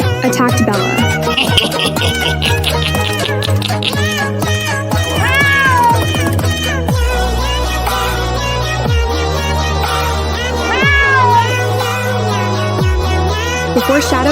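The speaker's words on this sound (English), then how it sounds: "A notorious robber cat named Shadow attacked Bella" Cats yowl and meow loudly in an animated cat drama, repeated drawn-out wails and snarling cries layered over a steady musical background, close and intense.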